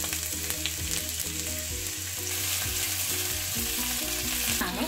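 Garlic, onion and capsicum sizzle steadily in hot oil for spring rolls, a close crackling fry with occasional stirring clinks and a faint hum beneath.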